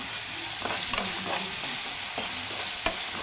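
Soaked fresh field beans (avarekalu) frying in hot oil, with a steady close sizzle and light stirring scrapes and taps scattered through, no voices.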